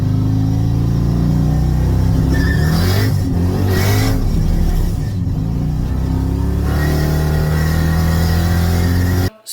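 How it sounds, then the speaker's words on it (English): A drag car at the track revs hard with low tire pressure, its loud engine roar rising and falling continuously while the tires spin, close and sustained until it cuts off abruptly at the end. "forgot to lower the tire pressure, so I like totally blew the tires off, didn't even budge"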